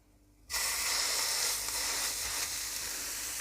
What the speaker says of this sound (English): Now once your oil is nice and hot, add in the mutton mince,